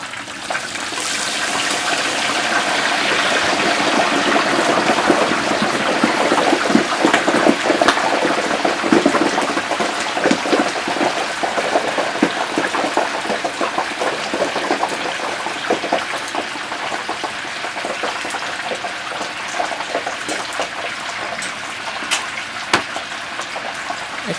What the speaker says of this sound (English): The turkey is now ready to pull from the fryer.